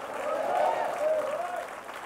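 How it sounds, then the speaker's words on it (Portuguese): A church congregation claps steadily through a dense wash of applause, with raised voices calling out over it, close and loud throughout. "Se quer aplaudir a Jesus, aplaude com força, meu irmão."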